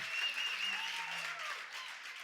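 Alabama basketball fans applaud in an arena, a sustained roar of clapping and crowd noise, with a faint voice speaking briefly over it.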